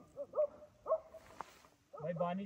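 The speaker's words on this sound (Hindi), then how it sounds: "कुछ भौंक रहा है भाई, टेंट बंद कर दे" A dog barks several times outside a camping tent at night in the Gul Danda forest near Bhaderwah. The barks come in short bursts, then a steadier, louder stretch of sound closes the clip.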